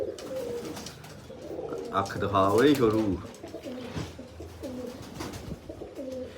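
Cooing from a Cheena pigeon, a flying breed released at Karimpur, repeats in low throaty pulses. The loudest burst comes near the middle, and someone talks over it throughout.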